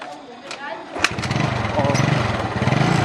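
A motorcycle is kick-started and its engine catches after about a second, then runs with a steady rattling idle and slight revving, with voices talking nearby.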